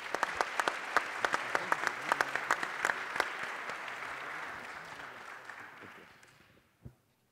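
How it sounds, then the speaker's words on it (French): Audience applause at the close of a talk at a French panel discussion, steady clapping that fills the room for about six seconds before fading out, followed by a single faint thud. "Je pense qu'on peut l'applaudir."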